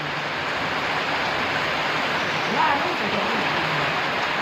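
Sudden village rain falls in a continuous, dense wash of hiss, constant and fairly close, with a faint voice briefly audible partway through.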